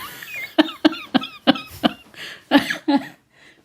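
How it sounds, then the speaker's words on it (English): A run of sharp, harsh coughs, about eight of them in quick bursts, loud and close, with a short pause before the last few. "I'm going to cough"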